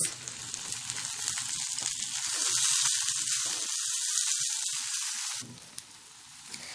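Rice being stirred in a pot with salt and black pepper, giving a steady frying sizzle with scraping stirs that fades partway through, then a softer, quieter hiss near the end.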